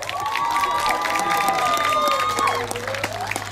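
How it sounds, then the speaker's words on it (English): A crowd applauds and cheers at a passing-out parade for Pathfinder Band recruits in Barbados, with steady clapping, whistles and rising, falling voices carrying throughout. "Give them one more round of applause."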